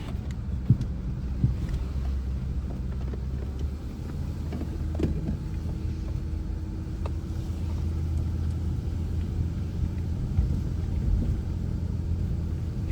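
Car driving along Mt. Misery Road at night with the windows down, a steady low engine and road rumble with wind buffeting, continuous and without talk.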